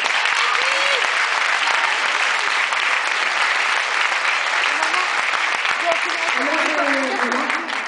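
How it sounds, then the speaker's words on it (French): An audience applauds at a prize-giving ceremony with loud, sustained, dense clapping that runs unbroken throughout. Crowd voices and shouts are faintly mixed in under the clapping. "On peut l'applaudir aussi pour ça."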